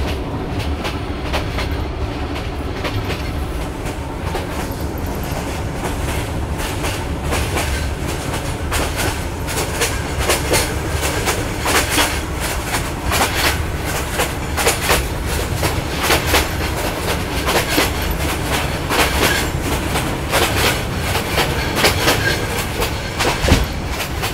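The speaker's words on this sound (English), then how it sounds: "Yeah, I'm the only foreigner on the train" Steady rumble and rhythmic clickety-clack of a passenger train heard from inside a carriage, loud and continuous with repeated wheel clicks over rail joints and no talking.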